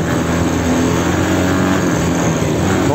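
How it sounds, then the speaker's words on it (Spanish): A Daelim Roadwin 125 motorcycle pulls away in first gear without the clutch, ridden off-road, producing a loud, close, steady engine drone with heavy wind buffeting and no speech. "He tenido que salir en primera sin embrague."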